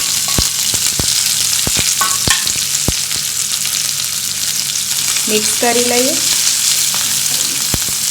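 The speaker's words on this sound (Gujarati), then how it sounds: "રાઈને આપણે તતડવા દઈએ રાય તતડવા લાગે એટલે થોડું જીરું પણ ઉમેરીશું મરચાના ટુકડા અને લીંબડી પણ ઉમેરી દઈએ" Mustard seeds, cumin, chilli pieces and curry leaves spluttering in hot oil for a tempering, a loud constant sizzle punctuated by sharp pops and crackles, with a brief spoken phrase partway through.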